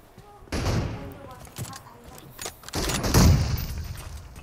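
Gunshots ring out in a battle royale esports match, a couple of sharp bursts with heavier thumps near the end, mixed with game ambience and voices talking over the action.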